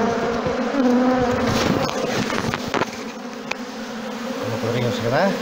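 Honeybees are moved from a nucleus box into their permanent hive box during a swarm transfer, producing a dense, loud, close buzzing drone of many bees that continues throughout, with some shifting tones.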